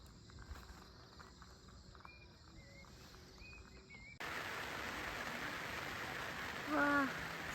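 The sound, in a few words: rain falling on campsite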